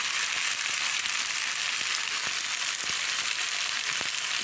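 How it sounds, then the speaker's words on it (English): Pasta frying in a pan for carbonara, a steady, close sizzle with occasional soft stirring scrapes and crackles, heard alone. "Yes, let me fry it up a bit."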